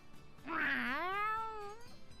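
A single drawn-out cat meow from the video game Tales of Xillia 2, rising then slowly falling in pitch, clear and close with faint background noise.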